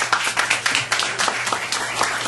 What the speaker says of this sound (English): Can y'all give her a round of applause?